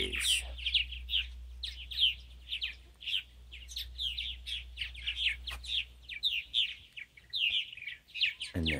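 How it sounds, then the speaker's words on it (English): Purple martins chirp and warble in quick, repeated bursts, fairly close and steady, with a low hum underneath. "These are purple martins. They are birds that come up from South America."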